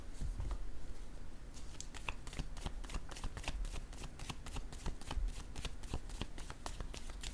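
Playing cards are shuffled and drawn in a quiet room, a continuous soft riffling and patter broken by crisp flicks and snaps as individual cards are pulled, close and fairly faint.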